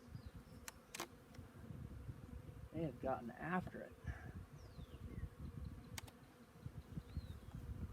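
Soft, steady buzzing of many honey bees close by in a swarm trap hive, with a brief spoken remark in the middle and a few sharp clicks.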